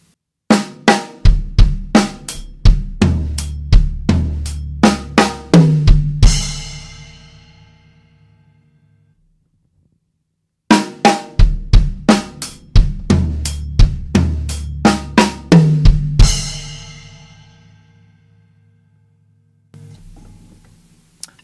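A drum kit plays a quick linear pattern of snare, toms and kick, struck one at a time, ending with a ringing crash; the sequence repeats twice.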